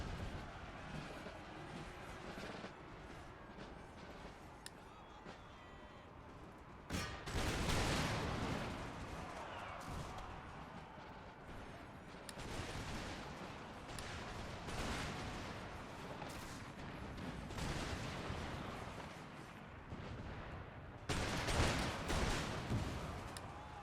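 Musket volleys and booming artillery from a Napoleonic-era Empire Total War battle, with the Prussians fighting, roll on continuously as dense crackling fusillades, with heavier bursts of cannon fire standing out.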